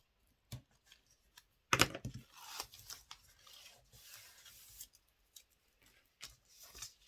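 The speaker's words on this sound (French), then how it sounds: "On enlève nos scotch." Quiet tearing and rasping of adhesive tape being pulled off paper, a sharp rip followed by softer peeling and scratching sounds.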